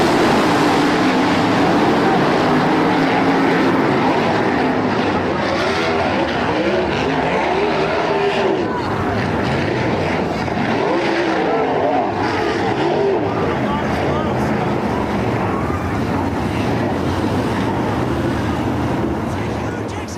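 Race car noise fills a NASCAR crash, with roaring engines, skidding and squealing tires as a car flips and strikes a wall roof-first, all loud and continuous under excited commentary.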